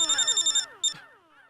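A phone ringtone chirps in a fast series of bright electronic pulses, pauses, then gives one more short burst before fading into quiet room ambience.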